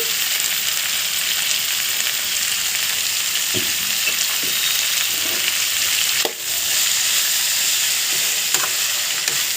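Ivy gourd with curry leaves frying in a pan gives a loud, continuous sizzle, close up, with occasional soft knocks and scrapes of a spatula stirring the pieces.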